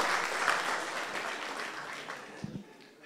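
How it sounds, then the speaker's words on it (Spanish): A group applauds a team at a public-management coaching workshop, a steady spread of clapping filling the room for a few seconds, with a brief low voice near the end. "Aplausos para este equipo."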